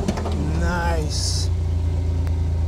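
A 1946 Willys Jeep fitted with a Buick 225 V6 oddfire engine idles with a steady low rumble while someone talks over it.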